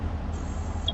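A Ferrari idling in the mobile video game GTA San Andreas, a low, steady engine rumble that holds evenly and quietly for under a second.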